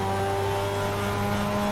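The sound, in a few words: Mazda RX-7 Spirit R twin rotor engine accelerating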